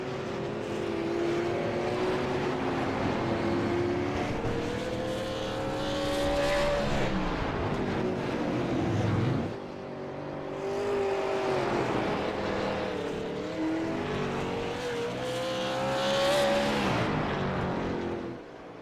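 Race car engines on track in the iRacing sim: loud, droning motors rise and fall in pitch as the cars accelerate and lift through repeated laps, with no talk over them.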